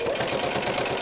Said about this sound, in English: We're just using a plain straight stitch, nothing fancy, and going through all the layers.